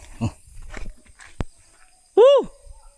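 A dog gives one sharp, rising-and-falling bark close by near the end, after a few scattered softer knocks and voice-like sounds.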